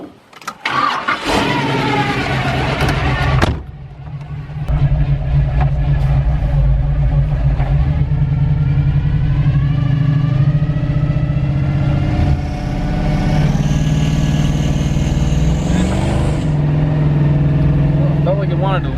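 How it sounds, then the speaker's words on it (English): A Cadillac Coupe De Ville with a swapped 6.0 LS V8 cranks and starts, then idles loudly with a deep steady rumble and occasional rising revs, all close up. "Revs right up."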